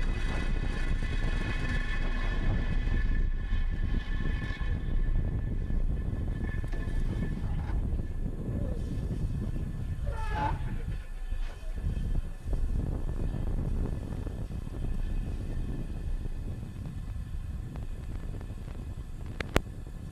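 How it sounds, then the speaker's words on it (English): A SpaceX Falcon 9 carrying 46 Starlink satellites lifts off from Vandenberg Space Force Station. A deep, distant rumbling roar holds steady and unbroken for about twenty seconds, with wind buffeting the microphone. "we had a beautiful liftoff of Falcon 9 from Vandenberg Space Force Station"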